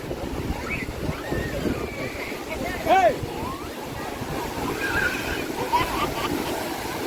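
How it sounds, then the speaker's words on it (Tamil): Waves surf on the beach at Velankanni, India, in hot weather, with a steady wash and wind noise across the microphone and brief bird-like chirps above it. "நல்ல அலை வருது."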